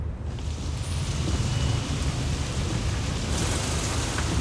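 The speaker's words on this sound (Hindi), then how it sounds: "अरे वाह, बारिश।" Heavy rain pours steadily with a low thunder rumble rolling beneath it, a dense, continuous wash of sound that stays loud throughout with no voices.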